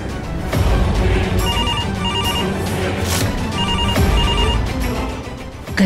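A telephone ringtone repeats in regular bursts of bright electronic tones over a busy, loud mix of music and background sound, in a dramatic TV-show setting.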